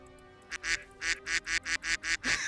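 Voices imitate duck honks in a quick run of about eight evenly spaced nasal quacks, close and loud, standing in for a pileup of falling T-Rexes during a tabletop game session.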